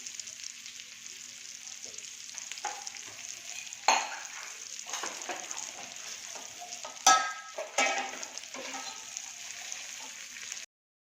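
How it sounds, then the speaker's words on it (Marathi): Halwa (pomfret) fish shallow-fries on its second side in a pan, a soft, even, quiet sizzle broken by a few sharper scraping clatters. "आता याची दुसरी बाजूही आपण व्यवस्थित शेकून घेणार आहोत"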